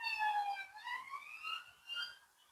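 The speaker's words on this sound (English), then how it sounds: "Police car or something, ambulance going past." A police car or ambulance siren wailing as it passes along a road, rising and falling in pitch, moderately distant and thin, heard alone without talk.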